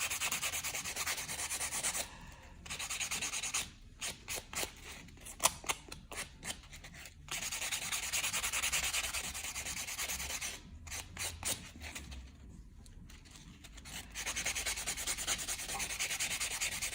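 Acrylic nails are sanded with a white 100-grit block in rapid, close, raspy scratching strokes that come in bursts separated by short pauses.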